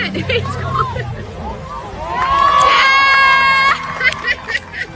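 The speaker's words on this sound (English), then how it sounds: "He was applauded like a hero" A crowd cheers and shouts for a man hailed as a hero, a loud swelling roar of voices with shrill whistles and children's cries over general hubbub and nearby talk.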